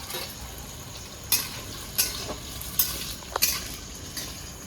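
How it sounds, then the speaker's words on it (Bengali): Potatoes frying in hot mustard oil give a soft, steady sizzle, punctuated every half second or so by sharp clinks of a utensil stirring the pan. "দিয়ে দেবো সরষের তেল, আলুটা ভেজে নেবো"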